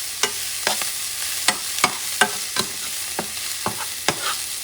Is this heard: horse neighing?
no